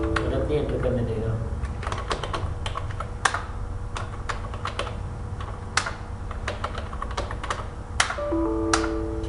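Digits being typed on a computer keyboard, a steady run of light key clicks with a few louder strikes, heard up close and continuing throughout.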